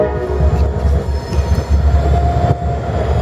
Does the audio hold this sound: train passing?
yes